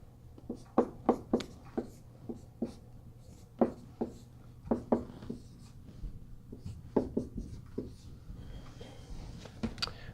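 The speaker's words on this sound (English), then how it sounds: "I'll write out the steps." Math steps being written out by hand, a pen or marker tapping and scratching in short irregular strokes with brief pauses between them, close and fairly quiet over a low steady hum.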